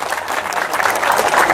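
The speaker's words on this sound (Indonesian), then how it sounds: "Tepuk tangan." A crowd claps steadily and fairly loudly at an outdoor demonstration of roping and felling a Bali cow, with faint voices mixed into the sustained applause.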